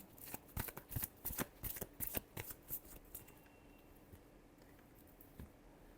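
Tarot cards being shuffled in a fast burst of crisp riffling clicks for about three seconds, then a quieter, sparser tail of soft card taps, close and with no talking.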